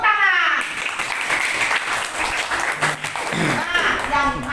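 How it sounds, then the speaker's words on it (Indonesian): Students in a classroom burst into applause, a short wash of clapping that swells and fades while a teacher's voice talks over the start and end. "Tepuk tangan."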